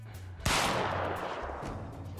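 One sharp gunshot cracks out loud and close in a scene from the Peaky Blinders TV series, followed by a decaying echo and a low background rumble.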